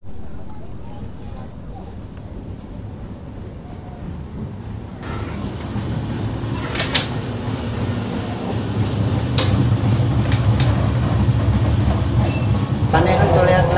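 The Howrah Mail, train number 12840, runs on the Chennai to Howrah route, heard from inside a first AC coach washroom: a steady loud rumble of wheels on the rails that grows louder, with squeals and clicks.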